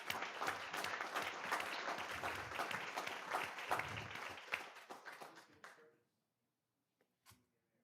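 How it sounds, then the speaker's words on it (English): An audience at a school board regular meeting claps in a sustained round of applause that fades out after about six seconds, followed by near silence and a faint tap. "So let's give them a round of applause for everything."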